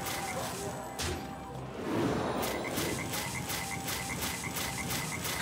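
Frogs croaking in the Hearthstone card game, a series of evenly spaced croaks repeating over busy game effects and a whooshing background.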